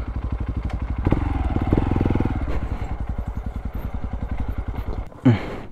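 A motorcycle engine idles with a steady, rapid chugging pulse, close by, in the remote Sitio Dinigman, General Nakar, ending with a short clatter as it cuts out.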